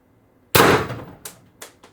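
An X-68 CO2 air gun fitted with a CAR expansion stock and 24 g CO2 cartridge fires one sharp, loud crack up close, followed by two fainter echoing knocks.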